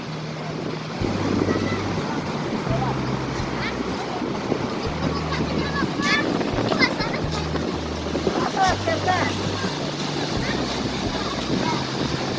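Waves and passing boats at Padang beach in Indonesia, with continuous surf and wind rumble, a low engine drone coming and going, and faint voices in the background.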